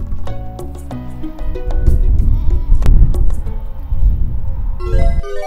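A group of goats bleats loudly and continuously at close range, calls overlapping into a busy chorus with rustling movement beneath.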